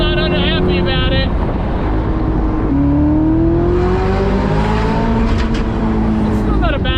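A Ferrari convertible's engine sings loudly while driving, its tone climbing and dropping through gear changes over steady road and wind noise, recorded up close.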